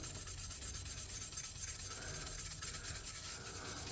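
Wire brush scrubbing surface rust off an old Ohio Tool Company wooden plane, a continuous close, scratchy rubbing with steady back-and-forth strokes and no talk.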